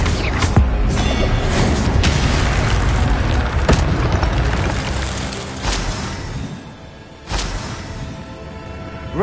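Expelliarmus spell cast in a Hogwarts wizarding video game, a few sharp magical bursts and booming impacts over a constant rumbling battle background, loud and close.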